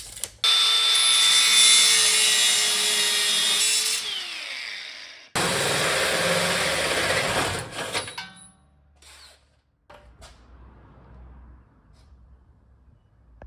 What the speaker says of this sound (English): I went and cut my pipe